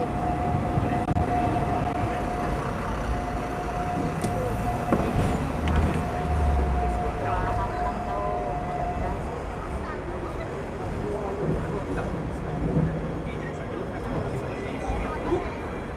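A Hong Kong street tram runs at night with a steady, loud rumble of wheels on rails and street traffic, a long tone sounding through the first half, and a voice talking over the ride.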